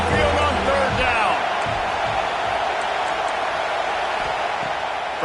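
Loud, steady roar of a packed college football stadium crowd on third down at Saban Field during an Alabama Crimson Tide home game against UL Monroe, with a brief voice near the start before the broadband crowd noise holds throughout.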